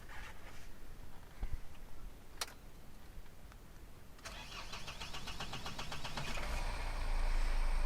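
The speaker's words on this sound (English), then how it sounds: "So today I'm going to start the Force Gurkha." Force Gurkha Xplorer off-roader engine cranking and catching, rising into a steady close, loud rumbling idle with ticking texture, no talk.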